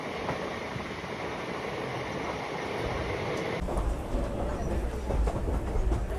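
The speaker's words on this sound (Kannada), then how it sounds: "ಈ ಎಲ್ಲ ವರ್ಕ್ ನಡೆಯೋದಕ್ಕೋಸ್ಕರ ಅಲ್ಲಲ್ಲಿ ಸ್ಲೋ ಮಾಡಿ ಅಲ್ಲಲ್ಲಿ ಸ್ಟಾಪ್ ಕೊಟ್ಟು ಹೋಗ್ತಾ ಇದೆ ಟ್ರೈನ್" A train rolls slowly along the line between Munirabad and Ballari, a steady rumbling wheel noise with a constant hum that shifts to a deeper, rougher rattle partway through.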